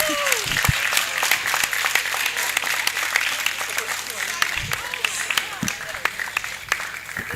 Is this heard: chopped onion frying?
no